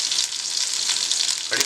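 Chillies and mustard seeds sizzling in hot oil, a bright, steady crackle with a brief sharper spatter near the end, close and fairly quiet.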